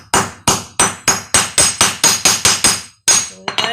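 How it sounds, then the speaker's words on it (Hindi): Sharp, loud hammer blows knocking a part into a Hero Maestro scooter, about a dozen evenly spaced metallic strikes close up, a brief pause, then a few lighter taps. "फिर पलटी करेंगे इसको इस तरह से, दूसरा वाला इधर से इसको ठोक लेंगे।"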